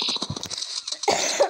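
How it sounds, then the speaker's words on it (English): A short, harsh cough close by, then a brief rough throaty burst a moment later. "Sorry for the cough."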